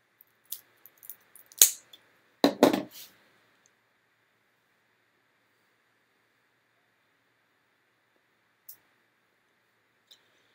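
A cigar is cut before smoking, with a couple of quick crisp snips close by, a brief rustle, then near silence broken by two faint ticks.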